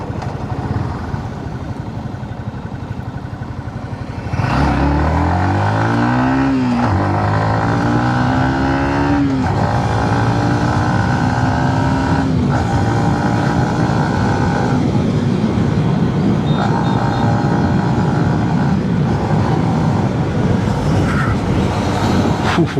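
A Yamaha XSR155 motorcycle pulls away hard and accelerates quickly through several gears, its engine note climbing and dropping with each shift, loud and close, with no talking.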